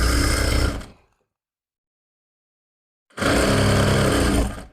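A sewing machine stitches a salwar in two loud, close, continuous whirring runs separated by about two seconds of silence.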